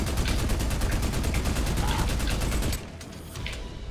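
Enemies open up in the shooter Army of Two with dense, rapid automatic gunfire for nearly three seconds, loud and close, then it cuts off to quieter scattered shots.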